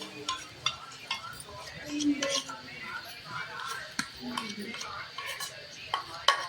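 Gram flour tipped into a pan of oil and reddened fried onions for zunka, with a metal spoon clinking and scraping against the pan in scattered knocks, moderately close, alongside intermittent talk.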